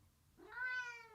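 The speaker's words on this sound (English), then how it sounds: "That's my cat." One short, fairly faint meow from a male house cat indoors, a single rising-then-falling cry lasting under a second.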